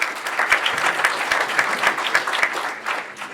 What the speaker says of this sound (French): Merci Alexandre, merci de l'applaudir.